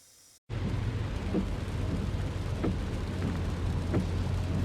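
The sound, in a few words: car ride home in the rain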